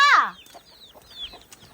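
A chicken gives a loud, close, rising squawk-cluck at the start, followed by faint, scattered clucks and chirps from fowl in a quiet village yard.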